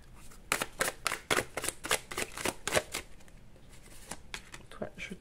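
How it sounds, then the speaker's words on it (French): Tarot cards laid out one after another on a table, a rapid series of crisp slaps and shuffling flicks, close and fairly loud, with someone speaking at times over the handling. "je pose toutes les cartes"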